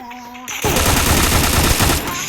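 Rapid automatic gunfire in the Free Fire video game, a loud, dense burst that starts abruptly and runs nearly two seconds, following a short tonal in-game sound.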